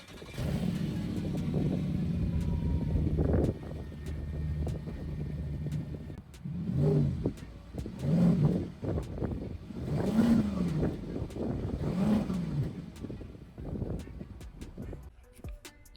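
Audi A8L's 4.2-liter V8 making 350 horsepower, a steady close engine drone that swells into several rising revs, each climbing and falling back, with no voices.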